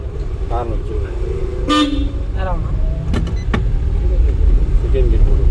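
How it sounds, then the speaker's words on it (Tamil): A car horn toots a few short blasts during a driving lesson in an Innova, close and loud over a steady engine and road hum, with people talking nearby. "காரம் அடிச்சிடணும்."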